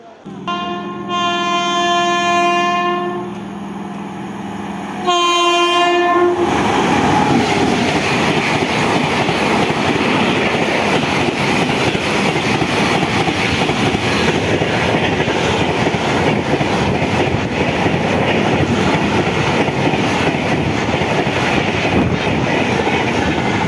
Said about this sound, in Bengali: চলে গেল 12301 আপ হাওড়া নিউ দিল্লি রাজধানী এক্সপ্রেস।